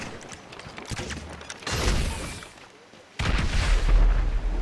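A rocket launches in GTA 5: a dense burst of roaring noise around the middle gives way to a loud whooshing blast near the end, with no one talking.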